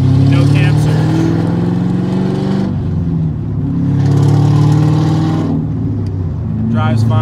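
Cammed C5 Corvette Z06 with straight pipes accelerating at full throttle from low revs, a loud rough V8 roar rising in pitch in two surges, heard up close with someone talking over it.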